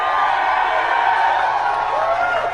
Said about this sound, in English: Getting a nice applause considering it was very nice.